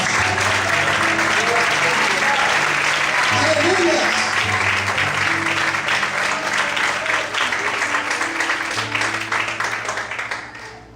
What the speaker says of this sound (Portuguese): Todos podem aplaudir e exaltar o Senhor em paz.